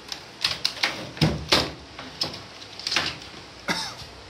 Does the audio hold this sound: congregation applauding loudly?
no